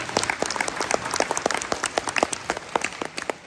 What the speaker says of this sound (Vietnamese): Cho một tràng pháo tay đi.